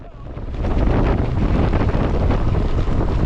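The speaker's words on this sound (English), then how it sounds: "it's pretty windy today." Strong, steady wind roaring and buffeting close to the microphone, loud and continuous with no other clear sounds.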